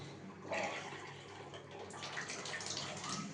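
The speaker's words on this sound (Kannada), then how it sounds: "ಹಾಗೆ ನೀರು ಬಿಟ್ಟು ನೋಡ್ತೇನೆ" Water running steadily from a geyser tap, a soft continuous hiss and splash, close and fairly quiet, with a small surge in flow partway through.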